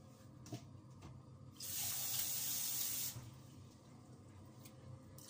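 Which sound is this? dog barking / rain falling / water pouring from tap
water pouring from tap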